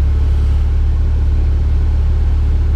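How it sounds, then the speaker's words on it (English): Inside a Mitsubishi Lancer Evolution 6 Tommi Makinen Edition with the engine running, the air conditioning compressor engages, adding to a loud, steady low drone and hum that continues unbroken. "The compressor just kicked in now."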